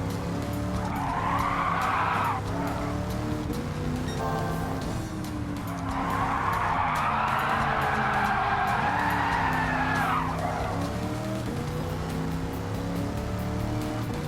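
A Firebird drifts on the Trial Mountain circuit in Gran Turismo 7. Loud tire squeal comes in two long sustained bursts over a steady engine drone, close and continuous, with no talking.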